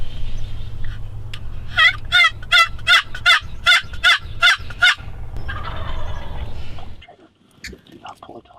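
A wild turkey gobbles loudly in response to hunters' calls, a rapid rattling burst of about ten pulses, close by, over a low steady hum, followed by quieter rustling.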